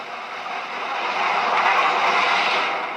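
The North Britain train, on the LMS railway in the WWII era, comes into a station. It makes a broad, steady rumbling roar that swells to a peak and then eases slightly, with no voices.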